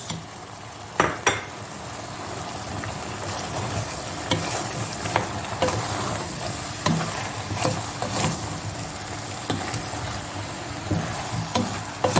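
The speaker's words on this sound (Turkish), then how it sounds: "Salçayla da güzelce karıştırıp 1-2 dakika daha kavuruyorum." Tomato paste is stirred and fried in a pan, with a low constant sizzle under repeated sharp clinks and scrapes of a utensil against the pan, close by.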